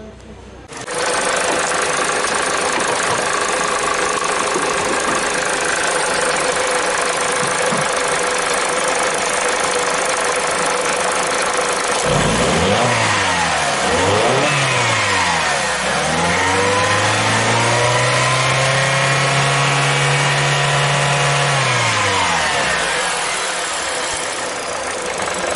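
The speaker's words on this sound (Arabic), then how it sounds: "تشوفوا الموتور لاباس يخدم، عامل سبوان صحيح" A car engine runs steadily with a dense, whirring idle, then revs up and down in several rising and falling sweeps before settling again.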